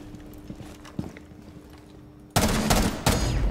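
Quiet thuds and scattered clicks give way to loud bursts of rapid gunfire in the video game Rainbow Six Siege, coming in two sharp volleys near the end.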